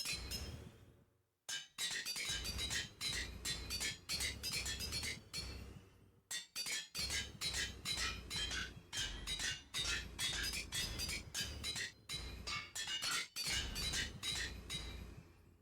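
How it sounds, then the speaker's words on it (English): Anvil clinks from the Minecraft modpack Monifactory ring out in a rapid, steady series of sharp metallic hits, loud and close, with short pauses between bursts and no talking. "Gotta love that anvil sound."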